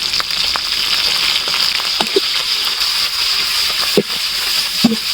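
Ginger-garlic paste and prawns frying in hot oil give a continuous close sizzle, broken by scattered taps and scrapes of stirring in the pan.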